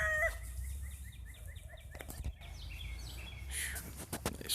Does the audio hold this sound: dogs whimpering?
no